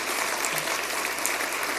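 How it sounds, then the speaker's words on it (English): Dense, steady applause from a large audience at the 2023 OSU Hall of Fame ceremony, continuous clapping filling the hall without a break. "a round of applause"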